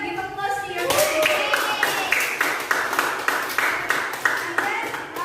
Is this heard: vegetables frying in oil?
no